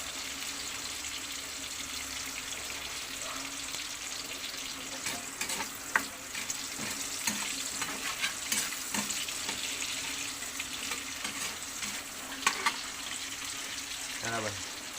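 Ginger for frog adobo sizzles and crackles in a hot pan in a steady, fairly quiet hiss, with scattered stirring clinks and pops over it.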